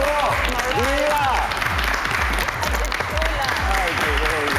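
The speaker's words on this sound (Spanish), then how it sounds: "¡Aplausos! ¡Bravo! ¡Viva!" A studio audience at a drag competition show claps steadily and loudly throughout, with voices cheering over the applause.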